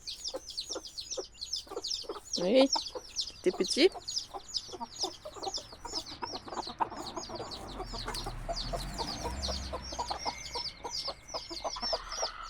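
A flock of hens and small chicks, including silkies, clucks and peeps busily in a farm pen, a steady chatter of chirps over low rumbling, with a child and adults briefly speaking nearby.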